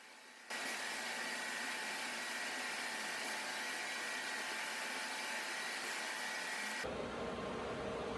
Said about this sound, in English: now I'm going to use a regular mixing paddle to mix the epoxy